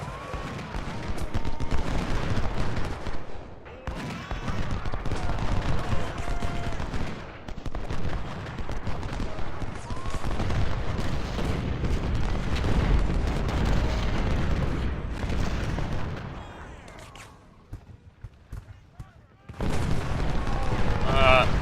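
Musket volleys and artillery fire in the Ultimate General: Civil War battle game at First Bull Run: dense, continuous crackling gunfire and booming cannon at steady loudness, with a brief lull near the end before firing resumes, with talking over it.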